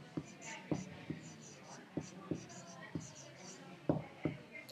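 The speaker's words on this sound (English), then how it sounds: "we're going to write the word dividing" A pencil writing on paper, faint close scratchy strokes in irregular bursts, about a dozen separate marks over a few seconds, with a soft voice murmuring now and then.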